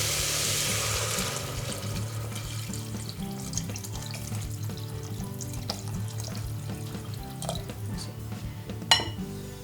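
Water poured into a pot of pea soup on the stove, a steady rushing pour mixed with sizzling and light pot clatter, close and continuous, with a sharp clink near the end.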